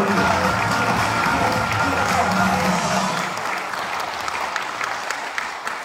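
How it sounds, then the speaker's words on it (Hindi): A seminar audience at a Vestige success event breaks into loud, dense applause that holds strong for about three seconds, then thins to a softer, scattered clapping that carries on to the end. "एक बार जोरदार तालियां बजा दीजिए"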